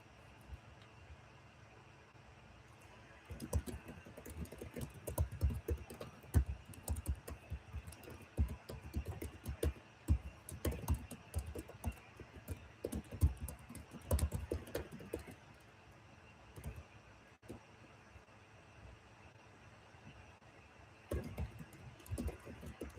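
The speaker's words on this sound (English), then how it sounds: "At least you can see what I'm typing." Steady typing on a computer keyboard, rapid close keystrokes in irregular bursts with brief pauses, over a constant low background hum.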